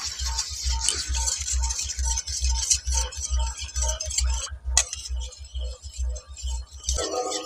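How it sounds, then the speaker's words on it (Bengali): A spoon stirs yeast into a bowl of warm water, producing light irregular clinks and taps against the bowl over a low steady hum. "ইস্টটা দিয়ে ভালো করে কিন্তু গরম জলের সঙ্গে মিশিয়ে নিতে হবে।"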